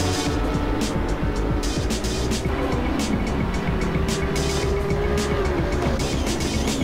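GT3 race cars in the Assetto Corsa game braking downhill at Imola, with loud, close engine roar, downshifts and tyre squeal overlapping continuously.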